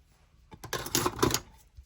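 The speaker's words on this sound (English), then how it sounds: "I'm just going to grab my scissors because I can't be bothered to get out my trimmer." Scissors snip through paper during a junk journal craft session, a brief cluster of close, crisp cutting and rustling sounds lasting about a second.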